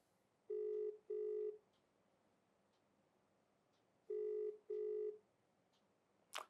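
Outgoing phone call ringback tone: two pairs of double ring bursts a few seconds apart, with a quiet gap between, and no answer, ending in a short click.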